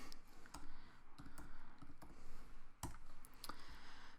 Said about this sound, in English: type out the word data